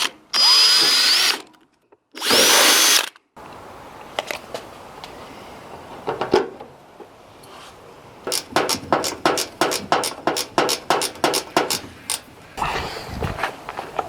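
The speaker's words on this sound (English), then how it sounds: "made a mark right here where we're going to drill through the fender" A power drill bores through the fender of a Datsun 280ZX, with two long loud bursts of high whine up close, then a quieter stretch with scattered clicks and taps, and a rapid run of sharp rhythmic clicks near the end.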